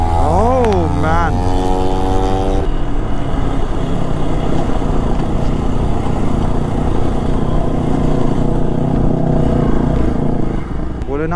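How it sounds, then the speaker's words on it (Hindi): Loaded motorcycle riding a mountain road between Manali and Lahaul, its engine a steady, loud drone throughout with a brief voice at the start. "बाइकर निकल चुके हैं रोड पर"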